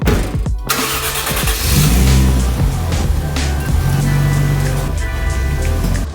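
Toyota JZX100 drift car engine cranking and catching, then running at a loud, rough idle with some revving inside a poorly ventilated garage.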